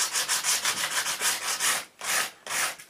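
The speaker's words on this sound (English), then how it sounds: "I'm just going to go over this surface here with a bit of 80 grit sandpaper" Coarse 80 grit sandpaper scrubbing back and forth over a painted wall surface beside a staircase, a steady run of rough rasping strokes, close and loud, with a brief pause before two more strokes.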